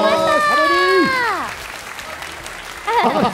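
An audience claps in a steady wash of applause at a live studio broadcast event for an online video game. Voices speak and exclaim loudly over the clapping, which swells again at the end.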